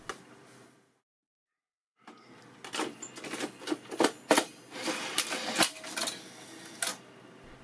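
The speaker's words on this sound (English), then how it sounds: "Now we can test the loading mechanism." Sony U-matic VO9800/9850 video recorder's tape loading mechanism running after repair: after a second of silence, a busy series of mechanical clicks, clatters and whirring motor noise at close range, with sharp ticks standing out.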